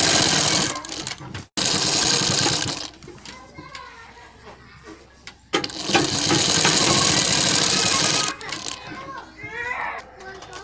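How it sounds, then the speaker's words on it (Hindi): A sewing machine stitches the curved seam of a collar neckline, running in loud bursts of steady whirring broken by brief pauses, with a few short quieter gaps where fabric is repositioned. "हमने इसमें सिलाई लगा ली है"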